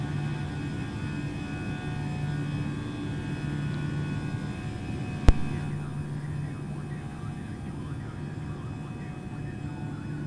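An Airbus A320 climbs after takeoff in Microsoft Flight Simulator, giving a steady droning engine hum with a constant tonal whine and one brief sharp click partway through.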